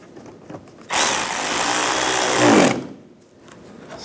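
A power tool on a 2012-2019 BMW 328i xDrive runs in one continuous whirring burst of nearly two seconds, close and loud, its pitch dropping as it winds down, with quieter handling noises before and after.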